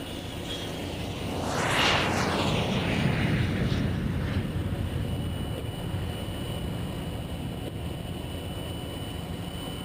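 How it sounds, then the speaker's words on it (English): Two de Havilland Vampire jet fighters make a flying display pass at an airshow, their roaring jet noise swelling to a loud peak as they approach and sweep by, then lingering as a steady broad rumble. "Here come the two de Havilland Vampires."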